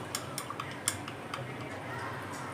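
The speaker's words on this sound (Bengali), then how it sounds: "তরমুজের জুস দিয়ে এটাকে নেড়ে নেব" Spoon clinking against a glass while lemon juice and watermelon juice are stirred together, a few light ticking taps scattered over a steady background hum.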